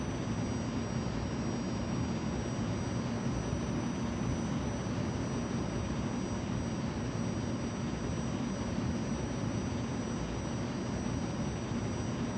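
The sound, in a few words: airplane engine throttled down in Flight Simulator 2020 video game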